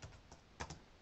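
Computer keyboard typing during SQL query writing, a quick burst of a few soft, close keystroke clicks with short gaps, quiet and alone.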